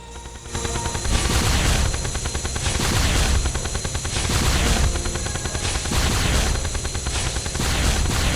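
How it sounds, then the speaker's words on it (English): The Photo Viscerator exo radiation beam weapon fires in Terraria Calamity, loud and continuous, pulsing in a steady rhythm of repeated bursts that cut in and out over a droning, rumbling bed. "Emits a continuous beam of exo radiation that disintegrates everything."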